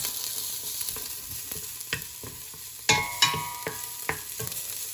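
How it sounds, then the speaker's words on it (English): Garlic sautéing in hot oil for sinigang na salmon gives a soft, steady sizzle close by, broken by a few sharp clinks and scrapes of a utensil stirring the pan. "go ahead and add our garlic. Just saute this."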